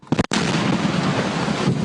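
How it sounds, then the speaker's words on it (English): A sudden, very loud explosion after a train derailment near Baltimore follows a brief crackle, its roaring blast and rumble filling the rest of the clip without any voices. "An explosion of such intensity, it blew out the windows in this McDonald's a quarter of a mile away"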